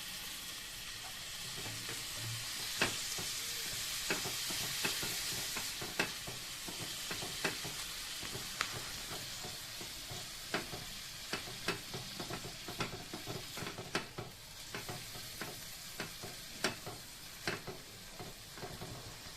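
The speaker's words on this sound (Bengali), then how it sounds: "জল দিয়ে মশলাটাকে কষিয়ে নিতে হবে" Spice masala frying in a pan with a little water added for the prawn and moong dal dish, a steady hissing sizzle broken by sharp scraping strokes of a ladle, the stirring coming faster toward the end.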